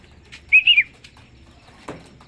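Racing pigeon landing at a loft during club training, a brief close burst of flapping wings followed by a faint call and a single light thump, with no talk.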